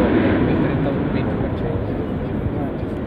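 Airbus A350-1000 airliner flying past at Farnborough Airshow, a steady loud broadband jet roar that fades slightly, with a commentator talking over it.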